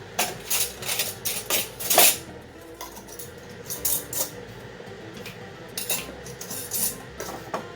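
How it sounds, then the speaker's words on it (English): Metal canning lids and screw rings being placed onto jars of pressure-canned squash, heard as a series of close metallic clinks and clatters in irregular bursts, with no talking. "Get your lids on there. And your rings."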